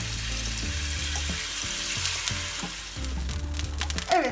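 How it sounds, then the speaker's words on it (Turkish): Steady sizzle of chicken frying in olive oil in a pan, crackling continuously with a few louder pops and clinks, close and fairly loud, no voices. "2'şer dakika kızartıyoruz."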